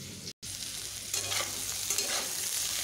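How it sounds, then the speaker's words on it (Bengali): Cumin and turmeric powder mixed with a little water into a paste, a close, continuous soft scraping and stirring sound, fairly quiet, with a brief break near the start. "দিয়ে আমি এই মশলাটিকে বেশ ভালোভাবে এইভাবে মিশিয়ে নিচ্ছি"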